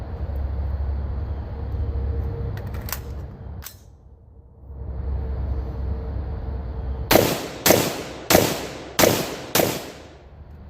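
A .223 rifle fitted with a BD2-556 muzzle brake fires five sharp shots in fairly quick, even succession outdoors, each report loud and close with a brief decaying tail, following a stretch of wind rumble and a few faint clicks.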